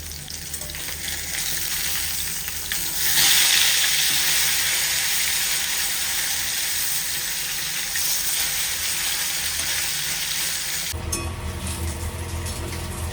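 Katla fish pieces fry in oil in a pan, giving a steady crackling sizzle that swells briefly louder, continues evenly for several seconds, then gives way to a duller clatter near the end, with no talking over it.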